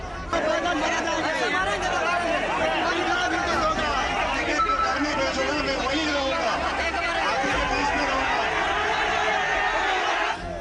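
Crowd of migrant workers in uproar on the roads during lockdown, a dense, continuous babble of many agitated voices with shouting, loud and steady throughout.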